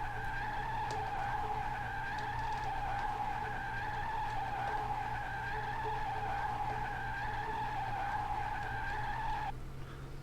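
Race car tyres skid and squeal while being warmed up in the video game Rising Star 2, a steady, continuous screech with an engine drone underneath, unbroken for about ten seconds before easing near the end.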